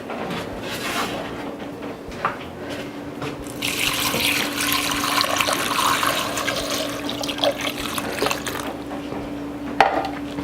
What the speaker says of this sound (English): Now I'm just going to cover it with water,